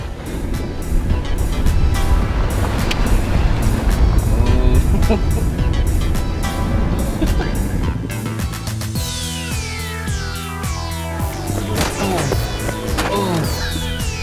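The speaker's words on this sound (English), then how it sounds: "car is so fun off-road. It is just eating up these trails." A turbocharged 2-liter four-cylinder 2022 Jeep Wrangler drives over off-road trails with a steady engine rumble, bumps and rattles, while loud music plays and a voice speaks over it.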